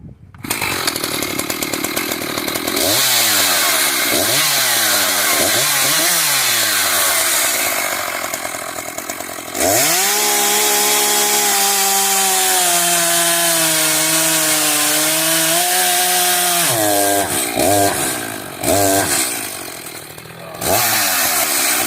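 An Echo CS-590 chainsaw runs loud and close after a carburetor adjustment. Its engine revs up and down in quick sweeps, then holds a steady high whine before dropping back and revving again.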